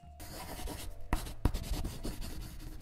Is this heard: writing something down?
yes